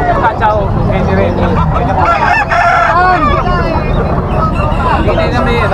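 Roosters and hens at a busy poultry market, a rooster's crow rising over constant clucking, cackling and honk-like calls, with traders talking throughout in a loud, crowded space.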